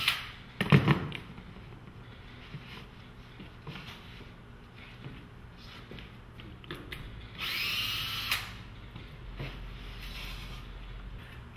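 A power drill runs briefly while removing screws from packing material and a small wooden piece during a golf simulator setup; one short whir comes late, after a sharp knock and quiet handling clatter.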